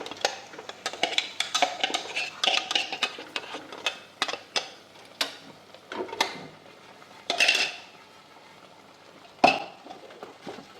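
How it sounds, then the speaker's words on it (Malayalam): A spoon stirs chicken with tomato and ginger paste in a pan, making irregular scraping clinks and knocks against the metal. The sounds come close and alone, with a few sharper taps near the end. "നന്നായിട്ടൊന്ന് ഇളക്കി കൊടുക്കാം."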